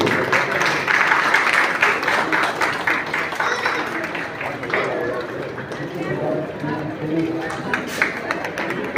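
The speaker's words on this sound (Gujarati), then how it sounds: "તો ફરીથી અમને તાળીઓથી વધાવી દઈએ." An audience at a girls' hostel function in Bhavnagar breaks into applause, a dense patter of clapping over a crowd murmur that fades toward the end, with voices speaking over it.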